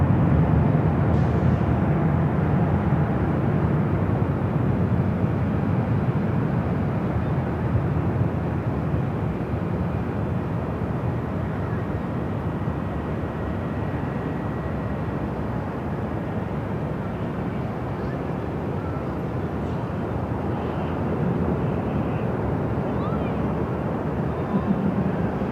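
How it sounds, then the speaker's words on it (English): A passenger airliner bound for New Orleans rolls for takeoff down runway 24 left at Los Angeles airport, a loud continuous jet roar holding steady throughout with no pauses. "the flight to New Orleans now rolling down the 24 left"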